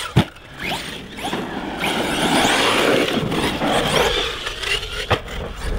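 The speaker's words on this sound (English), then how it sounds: "I'm really liking the power from this car." An ARRMA Kraton 6S V4 RC car drives nearby, its motor whining and rising with bursts of power while gravel or dirt scrapes and rattles under the tires, with a sharp knock near the start and another near the end.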